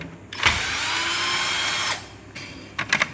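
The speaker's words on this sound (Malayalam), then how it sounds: "അപ്പോൾ നമ്മൾ ഇതിൻ്റെ സ്കൂർ അങ്ങോട്ട് ഊരി കൊടുക്കാൻ പോവാണ്." Power screwdriver whirring steadily as it backs screws out of a machine housing, one sustained run of about a second and a half with short bursts before and after, close and fairly loud with no talk.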